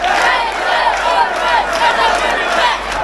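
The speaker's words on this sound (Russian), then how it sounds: "Постоянно на каждом матче болельщики посвящают эту кричалку." A dense stadium crowd of football fans chants in unison, dedicating the chant to martyrs fallen for Karabakh during an Azerbaijan versus Estonia match; the loud, sustained roar of many voices rises and falls in steady rhythmic waves.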